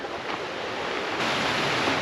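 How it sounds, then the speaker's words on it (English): Rushing river rapids and a nearby waterfall give a loud, continuous broadband roar that holds steady throughout, with no voices. "we are right next to a bunch of rapids and a waterfall"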